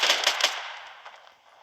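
Gunfire in the mobile shooter Standoff 2 bursts out as a quick string of close, loud shots, then fades into a decaying echo with a few fainter distant pops.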